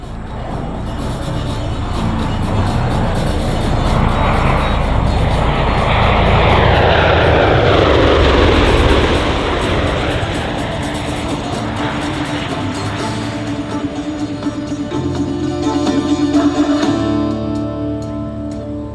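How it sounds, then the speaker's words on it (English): A USMC MV-22 Osprey tiltrotor flies past at a London airshow, a loud, sweeping rotor and engine roar with a pitch shift as it passes close, then a lingering throbbing drone. "Coming in from the left, the Osprey."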